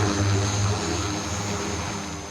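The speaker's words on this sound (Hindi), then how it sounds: "तो ये ड्रोन है जिसमें मैं उड़ के सफ़र कर रहा हूँ" A manned passenger drone flies with a person aboard, its rotors giving a loud, steady droning roar close by that eases slightly toward the end, with no talking over it.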